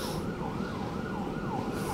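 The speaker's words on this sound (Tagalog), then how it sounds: "Pati ambulansya kinig ano." An ambulance siren wails in a repeating rising-and-falling pattern, fairly loud and steady, heard from a forest park in Manila with light traffic noise beneath and no talking.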